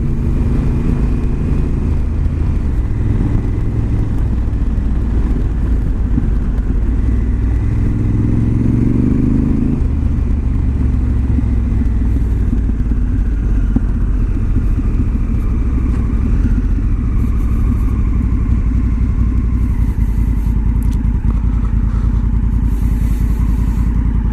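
A Honda Africa Twin motorcycle ridden along a weir access road, its engine droning loud and steady with constant wind rush and road rumble and a brief rising gear change, close throughout with no talk.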